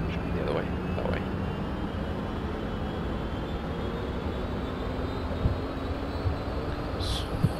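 A UH-1 Huey helicopter in the DCS game idles with its rotor and turbine engine at low power, a steady droning hum with a faint rising whine, continuous and fairly loud with no talking.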